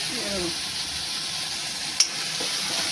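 Masala with Kashmiri red chilli sizzles steadily in oil, a constant soft hiss with one brief sharp click near the middle and a faint murmur in the background.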